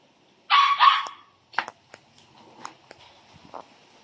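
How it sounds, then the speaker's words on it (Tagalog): A pet dog indoors barks sharply twice up close, then lets out a few softer yips and whimpers, impatient to be let outside. "Habang nag-iingay yung alaga namin, gustong lumabas."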